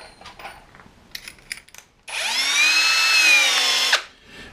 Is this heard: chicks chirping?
no